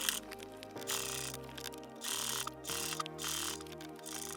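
A sewing machine stitches through a quilted truck hat in steady mechanical whirring runs, close up, pausing briefly between passes while a tonal hum rises and falls.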